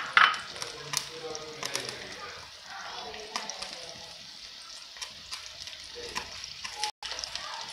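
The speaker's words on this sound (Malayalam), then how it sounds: "ഒരു ഫ്രൈ പാൻ വെച്ചിട്ട് അതിലേക്ക് കുറച്ച് ഓയിൽ ഒഴിച്ച് കൊടുത്ത് കുറച്ച് ചെറിയ ഉള്ളിയും കൂടി ആഡ് ചെയ്ത് നമ്മളതൊന്ന് വറുത്തെടുക്കാം." Small onions fry in oil in a frying pan, giving a steady close sizzle with occasional scraping stirs and utensil clicks.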